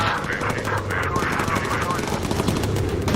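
Machine gun fire from a bomber's gun turret in the Bomber Crew video game, a dense rapid rattle sustained over a droning engine hum, with a voice speaking briefly over it.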